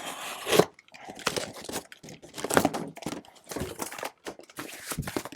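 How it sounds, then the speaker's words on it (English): Knife roughly slicing through biodegradable tree guard material, a series of close, loud crunching and tearing strokes in irregular bursts with brief pauses between cuts. "just very roughly cut it with a knife"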